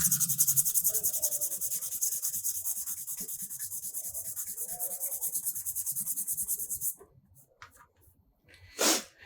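Sandpaper rubs in quick, steady strokes across the bare plastic of a DIY custom car tail light. The scraping sounds close and continuous for about seven seconds, then stops, leaving only brief faint noises.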